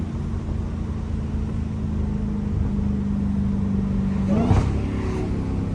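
A Dodge Hellcat's engine drones steadily and loudly from inside the car, a deep low rumble that swells near the end as the car passes by.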